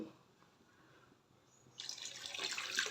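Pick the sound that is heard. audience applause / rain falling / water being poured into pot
water being poured into pot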